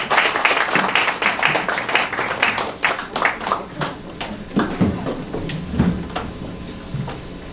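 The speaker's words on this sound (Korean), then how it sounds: "박수 부탁드립니다." A lecture audience at a forum in Busan claps for a returning professor, a dense burst of scattered hand claps that thins out over several seconds into sparse individual claps, with faint background murmur.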